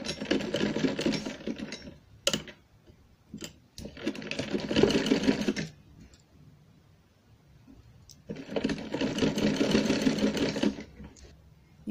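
Sewing machine stitching lace onto a baby's dress, running in three sustained bursts separated by pauses with small clicks and handling noises, close and fairly loud, with no talking.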